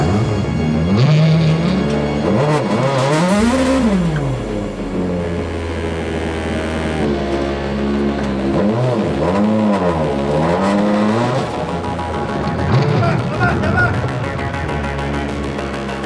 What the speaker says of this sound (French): Quelques fans sont venus aider et le moteur repart.